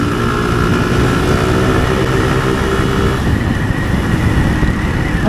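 A scooter engine runs nearby with a continuous, loud rough buzz and rushing noise that holds steady without any talk.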